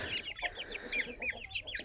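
Indian breed roosters and hens cluck in short repeated calls, fairly close and moderately loud, with no talk over them.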